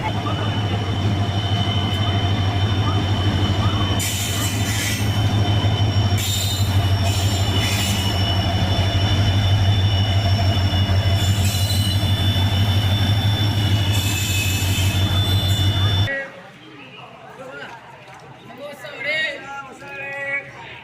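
The Bengaluru-Karaikal passenger express rolls along with a steady deep rumble and wheels grinding on the rails, heard loud and close from inside a carriage before the noise drops sharply near the end.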